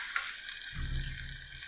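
Butter melting in a pan gives a soft, steady sizzle, fairly quiet and close, with a low hum rising partway through.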